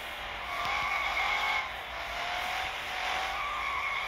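Tires of a V12 Speedster squeal in a long, steady skid as the car slides sideways on a racing game track, the loud screech rising and falling over the engine note with no talk.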